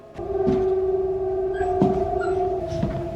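Dog howling in a scene from the TV series Chernobyl, long sustained mournful tones rising and falling over several seconds, fairly loud and close, with no talk over it.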